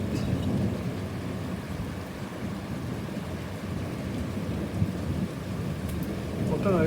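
A thunderstorm in Oxford, UK brings heavy rain in a continuous dense hiss, with low rumbling thunder rolling underneath and swelling slightly louder toward the end.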